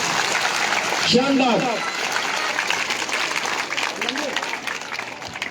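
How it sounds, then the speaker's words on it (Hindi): A crowd at an outdoor welcome event for a local legislator in a Rajasthan village claps, a dense wash of applause with a voice speaking over it. "तो इन सब के लिए, सारी सौगातों के लिए, माननीय मुख्यमंत्री महोदय के लिए और माननीय विधायक महोदय के लिए जोर"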